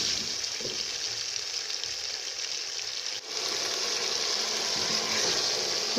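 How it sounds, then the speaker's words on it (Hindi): Onions frying in oil with ginger-garlic paste in a pan for aloo anda curry, a steady, loud broadband sizzle with no talk, continuous throughout with a brief dip midway. "ये थोड़ा सा ब्राउन होगा तो हम इसमें प्याज शामिल करेंगे।"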